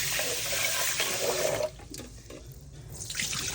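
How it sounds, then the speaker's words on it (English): Basmati rice being washed and rinsed in water at a kitchen sink, a steady rush of running, sloshing water for a couple of seconds before it drops to a quieter trickle and swells again. "I wash and rinse mine quite a few times."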